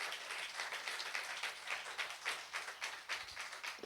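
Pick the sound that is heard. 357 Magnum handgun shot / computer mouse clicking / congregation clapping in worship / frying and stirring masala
congregation clapping in worship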